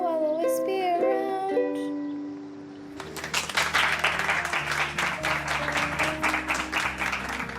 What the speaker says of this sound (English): When I got a round of applause at the end, I was really chuffed